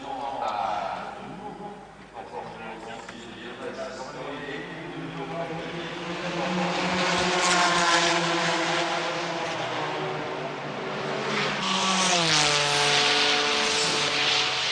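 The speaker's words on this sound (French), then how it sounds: "Et toujours en course le speeder K8 avec Jürgen Lessig au volant." Spyder K8 prototype race car lapping at the 1994 Le Mans 24 Hours, a sustained engine roar with rising and falling pitch as it passes, under continuous French commentary.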